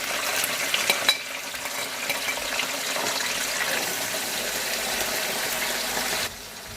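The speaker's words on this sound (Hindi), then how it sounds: "जैसे ये भुनेगा हम इसमें प्याज ऐड करेंगे" Cumin seeds and onions fry in oil for mutton paya, a steady close sizzle and hiss running throughout with a few brief stirring knocks near the start, easing slightly at the very end.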